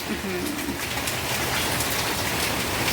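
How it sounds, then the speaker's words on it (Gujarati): Heavy rain falls during a storm, a loud, dense and steady hiss that fills the whole clip, with a brief low murmur near the start. "કેટલો વરસાદ આવ્યો"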